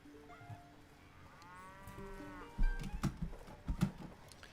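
Cattle in the Stronghold HD strategy game low and moo in a few drawn-out calls, followed by sharp game clicks and thuds, moderately loud with no talking.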